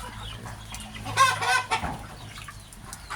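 Several chickens, including Rhode Island Red and native crosses, clucking in a budget brooder, with a few nearby bursts of clucking and short calls over a low steady hum.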